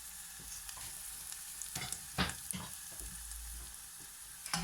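Fennel and onions frying in a pan while being stirred, a steady close sizzle with scraping clatters from a utensil, no talking.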